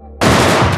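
Gunfire erupts in an action film, a sudden loud dense burst of shots that starts abruptly after a brief quiet moment and continues without a break.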